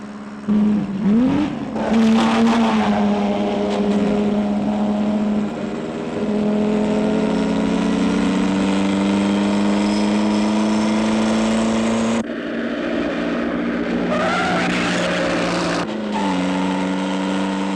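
A car accelerates hard in third gear, its engine note loud and close and climbing steadily in pitch, with a brief dip near the end before it pulls on again.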